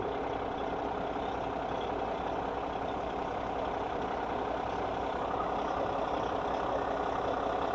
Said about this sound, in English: Got the MP8 Mack engine in it.